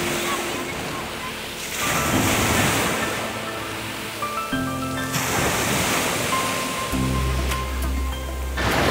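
Sea surf washes onto an empty beach at Tekirova, a continuous roar of waves with wind buffeting the microphone, fairly loud and steady throughout.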